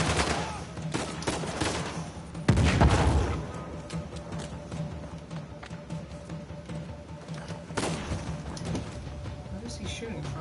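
Enemy gunfire in the video game Uncharted: The Lost Legacy, with a heavy close blast near the start of the third second amid repeated shots and bursts, while a player talks over the game action.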